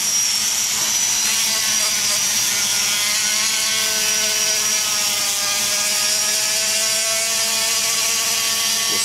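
A high-speed rotary tool whines steadily while polishing the exhaust port of an LS cylinder head, its pitch wavering slightly as the bit works the metal, loud and close for the whole stretch.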